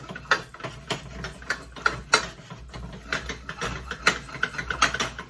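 Roux dough for profiteroles being beaten in a pan: a close series of irregular scraping knocks and clicks as a spoon works the thick paste against the pan, with no talking.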